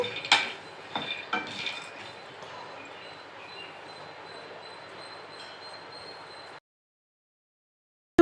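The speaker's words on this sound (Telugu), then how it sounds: "ముందుగా మనం వేరుశనక్కాయలు ఫ్రై చేసుకోవాలి" Peanuts fry in a pan with a few utensil clinks at first, then a steady low hiss of sizzling that stops abruptly into silence.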